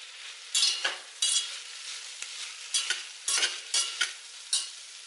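Onion, green chili, ginger and garlic sauté in a pan, soft background sizzle broken by repeated bright scraping stirs of a spatula at an irregular rhythm, close and clear with no talking.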